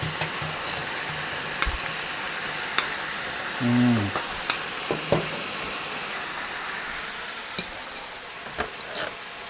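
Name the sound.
stir-frying pork with sauce in pan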